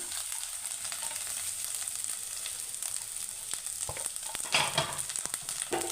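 Grated coconut frying in a spoonful of ghee, a steady close sizzle with occasional stirring scrapes and clinks near the end.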